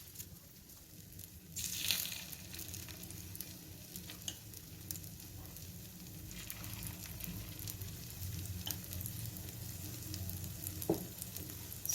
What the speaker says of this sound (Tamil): இப்போ நம்ம கலக்கி வச்சிருந்த கலவையை மெல்லமாக ஊற்றிடலாம்.